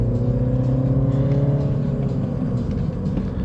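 A 2024 Mini Cooper S 3-door with a 6-speed manual pulls away under acceleration, its engine note rising and droning steadily up through the revs, heard from inside the cabin.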